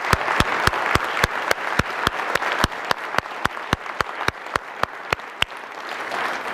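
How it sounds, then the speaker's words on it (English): A sparse round of applause at a government awards ceremony, with a few individual hands clapping in a steady, evenly spaced rhythm over a soft bed of wider clapping. "let's everyone give everyone a round of applause"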